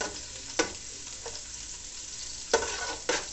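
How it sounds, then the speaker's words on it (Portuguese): Garlic browns in a pan for a maxixe and dried-beef (charque) stew, giving a soft, continuous sizzle broken by three or four brief spoon scrapes and stirs. "Deixa eu dar uma douradinha aqui nesse alho"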